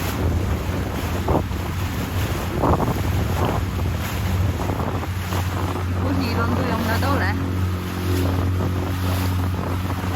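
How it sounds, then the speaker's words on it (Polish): Waves and strong wind at sea from a boat, a constant roaring rush with wind buffeting the microphone and surging water, while someone talks briefly over it. "Mamy fale niesamowite."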